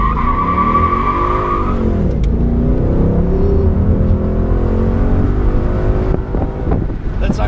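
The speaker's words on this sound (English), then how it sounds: "Obviously, I had a lot of wheel spin, which slows you down off the line." A 2016 Ford Mustang GT Convertible California Special engine roars under hard acceleration from a standing start, loud and steady throughout, with tires squealing from wheel spin and rising engine pitch as it pulls away.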